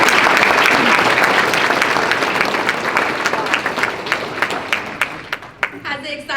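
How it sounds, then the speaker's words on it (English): At a Celina FFA banquet, an audience applauds loudly to welcome a new advisor, steady dense clapping that gradually fades into scattered individual claps near the end. "Please join me in a round of applause to give a warm welcome to our new advisor"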